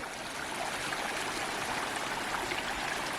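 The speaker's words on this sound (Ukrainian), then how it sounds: "І тут тече такий потічок." A small mountain stream flows through a forest in the Gorgany mountains, a steady, close, broadband rushing and babbling of water that fills the whole clip without pause.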